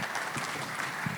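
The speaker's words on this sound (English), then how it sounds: "Please, let's give more rounds of applause for His Excellency" Audience applause at a leadership forum in Abuja, a steady wash of clapping filling the room throughout, moderately loud with no voices over it.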